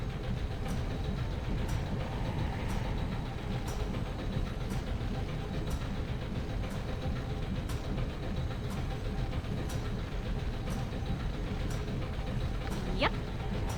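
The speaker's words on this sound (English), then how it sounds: "Listening to the whirring of mysterious machinery." Steady low machine whir and rumble from mysterious machinery in the video game Baldur's Gate 2, droning continuously throughout with faint periodic ticks and a brief sweeping tone near the end.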